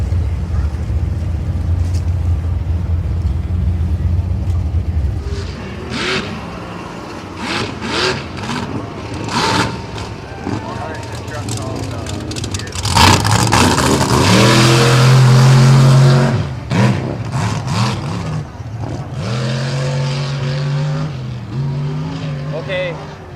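The mud truck Fearless at the Michigan Mud Jam revs in loud surges, rising to a roaring peak midway before falling back, with shouting and crowd noise around it.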